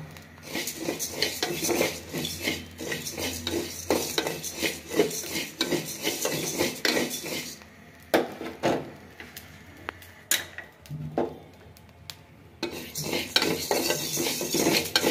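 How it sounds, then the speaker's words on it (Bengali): A spatula stirs and scrapes fried food around a metal pan after the stove is switched off, giving irregular clinks and rasping scrapes in close bursts with brief pauses, over a faint lingering sizzle. "চুলা নিবানোর পরও নাড়তে থাকবো যাতে পুড়ে না যায়।"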